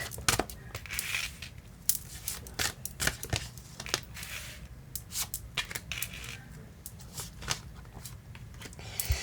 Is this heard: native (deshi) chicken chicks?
no